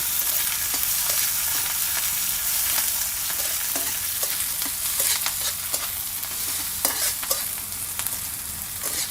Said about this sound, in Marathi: कांदा आपला लालसर रोजपर्यंत आहे ना हे परतून घ्यायचं